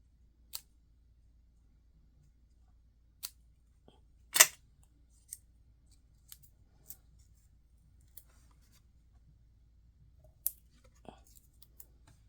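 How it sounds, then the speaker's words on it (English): Scissors make sparse, quiet snips around a paper butterfly's antennae, separate short clicks spaced irregularly over a near-silent background. One snip stands out louder than the rest. "This butterfly needs its little antennae area cut out a bit"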